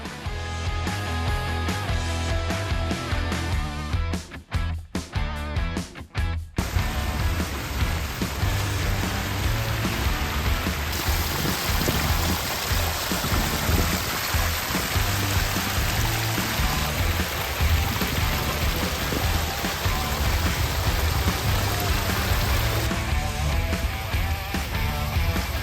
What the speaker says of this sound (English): this is a Pondless Waterfall you built a few weeks ago